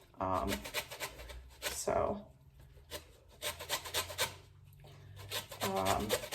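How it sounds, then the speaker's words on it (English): A lemon is zested with a hand zester into a bowl, giving short dry rasping scrapes in bursts near the mic. A voice talks over and between the strokes. "I'm going to take my lemon and my zester, and I'm just going to zest it right into the bowl"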